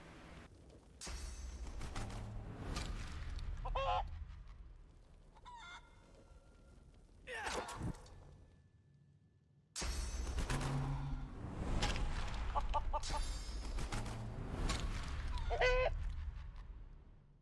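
Chicken clucks and squawks from the Divinity 2 video game come in repeated loud bursts with brief pauses, rowdy and close, alongside game sound effects and no speech.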